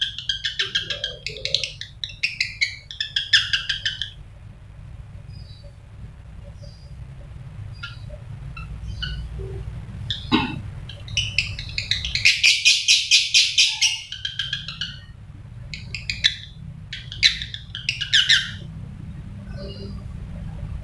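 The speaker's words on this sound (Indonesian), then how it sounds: "Itu tadi videonya burungnya Om Agus yang kondisinya lagi birahi" A pet songbird in breeding condition, played back from a recording, calls in bursts of bright chirps and rapid trills with short pauses between them, over a low steady background hum and no talking.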